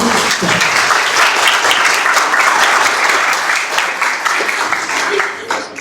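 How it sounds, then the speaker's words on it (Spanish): An audience applauds Jorge Medina, a CFT Estatal de Valparaíso professor, at a talk on Industry 5.0 and artificial intelligence; loud, dense, sustained clapping fills the room before tapering near the end. "le vamos a dar un fuerte aplauso de ánimo para que don Jorge Medina"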